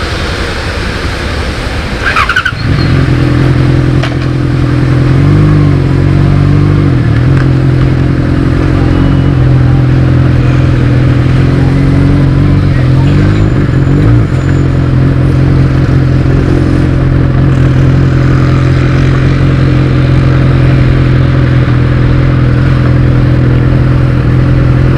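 A Yamaha XJ6N motorcycle that is overheating runs loud and close. A sharp clunk comes early, then a sustained engine roar with a few gentle swells in revs continues for over twenty seconds, with no voices over it.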